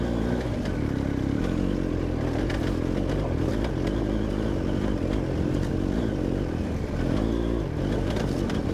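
A BMW GS adventure motorcycle climbs a steep off-road expert hill in Enduro Pro mode with traction control off, its engine roaring loudly and continuously with clattering from the rough surface, no talking.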